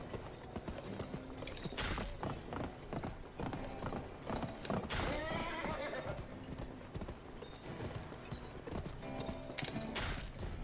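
Horse hooves clip-clop steadily in the GameCube western game Gun, a near, rhythmic trot under game noise, with a neigh and occasional mechanical clicks mixed in.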